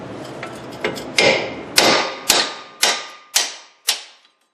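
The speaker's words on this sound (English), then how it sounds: "just tap around that with a hammer, and it should come right loose" Sharp metallic taps of a hammer striking a chisel on a 2010 Toyota RAV4 wheel hub, about eight blows in a steady, slowing rhythm, close and fairly loud with a ringing decay.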